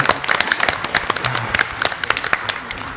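An audience at a live Awesome Games Done Quick speedrun event applauds with dense, loud, continuous clapping and some crowd noise throughout.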